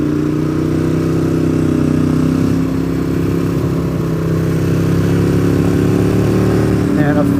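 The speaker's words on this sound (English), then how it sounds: "Two more Miatas" Mazda Miata cars drive past, their engines a continuous, loud, close drone that barely rises or falls over several seconds.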